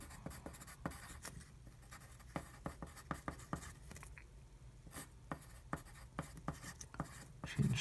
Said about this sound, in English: So I'm just gonna write it down.